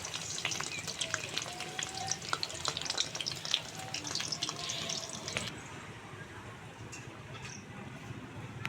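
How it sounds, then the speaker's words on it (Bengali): Pumpkin leaf rolls in a batter with potato filling fry in hot oil, giving a steady close crackling sizzle with scattered pops that drops to a quieter, softer fizz partway through. "এই কুমড়ো পাতার রোলগুলো আমি তেলের মধ্যে খুব ভালো করে নেড়ে চেড়ে লাল করে ভেজে নিয়েছি"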